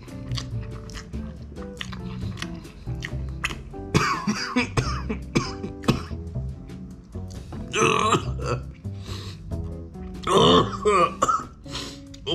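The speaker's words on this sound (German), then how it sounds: "Jetzt weiß man nicht, huste ich, weil es scharf ist, oder huste ich einfach, weil ich Husten habe." Coughing and throat clearing after eating spicy Samyang Buldak Kimchi fire noodles, several harsh bursts scattered among chewing and mouth noises, close and fairly loud, with no talking.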